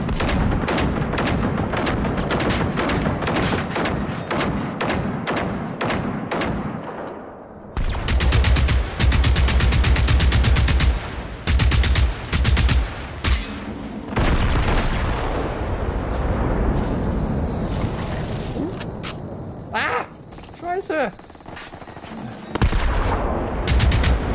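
Loud bursts of automatic gunfire from the player's weapon in the game Generation Zero, rapid repeated shots in several volleys with brief pauses between them, alone with no talk.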